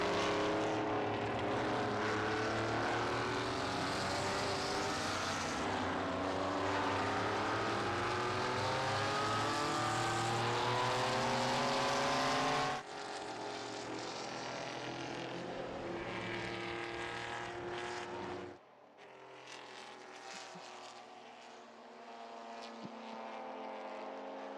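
Historic race cars, including a number 75 Porsche and a Mustang, roar past at the Estoril circuit, loud engine notes rising and falling as they pass close, followed by a quieter, more distant run of engine noise.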